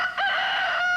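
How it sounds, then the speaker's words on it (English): A rooster crows in an old Kentucky Fried Chicken television commercial: a single loud, close cock-a-doodle-doo with bright, strained harmonics that lasts the full second. "I'm a crowing chicken."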